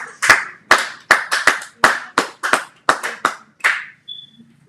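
A church congregation claps during worship: about a dozen sharp, close hand claps land in a quick, steady rhythm, then stop and leave near silence.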